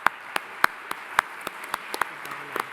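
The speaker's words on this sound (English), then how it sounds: "let's please give them a round of applause" Sparse, distinct handclaps from a small audience at a geography symposium, given in thanks to the food service staff; a dozen or so separate sharp claps, close and irregular, with no steady roar of applause.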